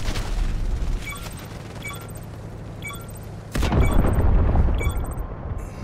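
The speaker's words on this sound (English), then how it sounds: "And we just got blown the fuck up by a tank, bro." A tank shell explodes in the video game Delta Force Mobile, in battlefield mode, as one heavy, loud boom that cuts through earlier game clatter and beeping interface tones, then rumbles on.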